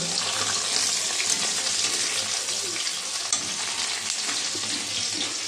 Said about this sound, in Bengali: এই মাছ ভাজা হয়ে গেছে দেখো উল্টে দিয়েছি